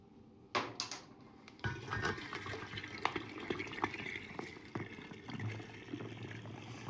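Carbonated cola poured from a tap onto whiskey already in a glass, a steady close liquid splash and fizz with small clinks, alone without talk.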